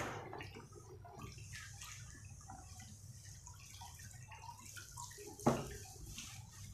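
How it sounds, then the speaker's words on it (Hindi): Plain water is poured into a white bucket, a soft continuous trickle and splash with a faint tap-like drip, quiet and close, with one sharp splash near the end. "अब इस वाइट बकेट में मैंने प्लेन पानी लिया है,"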